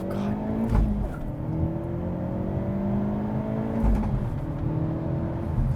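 A 2024 facelifted Hyundai Elantra N with a 2-liter turbo four-cylinder launches hard, its engine note loud and close inside the cabin as it pulls through a rising gear with a brief shift dip near the start and another later.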